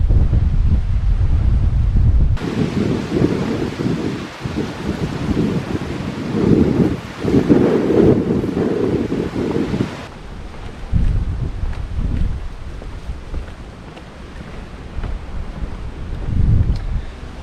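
Strong wind at a seaside overlook at Canaveral National Seashore, roaring and gusting loudly against the microphone, with surges and lulls and a sharp drop in buffeting partway through.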